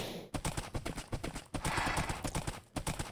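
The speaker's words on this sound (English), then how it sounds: "this turns out to be a really fast horse" A fast Minecraft horse gallops, its hooves clip-clopping in a quick, even rhythm that stays close and loud, with one short pause partway through.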